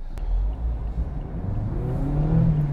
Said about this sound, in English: Nice rorty engine, nice thrum to it